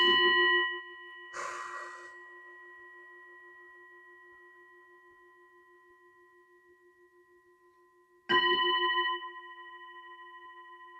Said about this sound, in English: I just want to have a singing bowl to just clear the air together with the cards